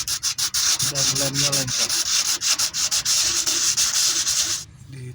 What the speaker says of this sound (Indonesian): Untuk permukaan diamplas bersih biar rata